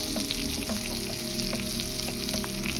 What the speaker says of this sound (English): I put a little bit of butter in the pan so that this catfish can have a nice little color to it.